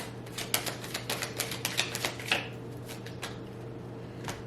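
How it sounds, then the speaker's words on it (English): Tarot cards shuffled by hand, a run of quick crisp riffling snaps and flicks in irregular bursts, close and fairly quiet over a steady low hum, trailing off into sparser taps. "I'm tired of shuffling."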